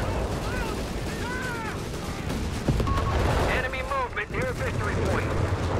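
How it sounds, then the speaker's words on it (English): Blasts and gunfire from a Company of Heroes 3 battle, with a dense continuous wash of explosions and shots under a commentator's steady voice, a sharper burst landing midway through. "Grenades exploding"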